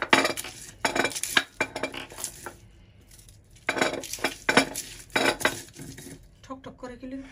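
Shrimp with chopped garlic and onion being fried in a pan, heard mostly as loud repeated clanks and scrapes of a metal utensil against the pan in bursts, with a light sizzle beneath and pauses between.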